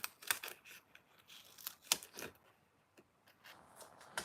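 Paper strips are snipped down with scissors, making sharp, close crisp cuts spaced irregularly with light rustling between them, quiet overall and with no talking.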